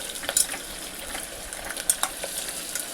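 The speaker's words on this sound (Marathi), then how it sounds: "आता कांदा छान असा परतायचा आहे" Onion sautés in a pan over a high flame, giving a faint, continuous sizzle with light, scattered scrapes of stirring.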